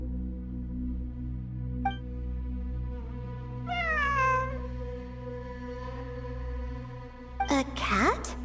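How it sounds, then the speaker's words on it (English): A cat meows in Genshin Impact, with a drawn-out meow midway and a sharper, wavering cry near the end, over a steady low in-game musical drone and hum. "A cat?"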